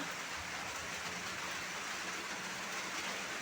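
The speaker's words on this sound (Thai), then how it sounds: "แต่ตอนนี้ก็ฝนกำลังตกนะคะ" Steady rain falls in a garden where a sweet leaf shrub grows in a pipe planter, a constant even hiss with no voices.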